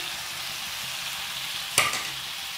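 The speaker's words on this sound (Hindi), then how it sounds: "अब हम इसे तेज़ आंच करके अच्छे से भूनेंगे।" Chicken karahi frying on high flame: a steady, loud sizzle fills the clip, broken near the end by a sharp clink of a stirring utensil against the pan.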